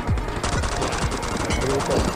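Rapid bursts of gunfire from the Free Fire shooting video game, dense and continuous with sharp repeated shots throughout, with voices faintly mixed in.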